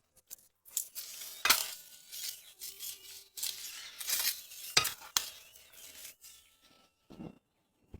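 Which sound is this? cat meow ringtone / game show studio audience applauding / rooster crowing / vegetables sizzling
vegetables sizzling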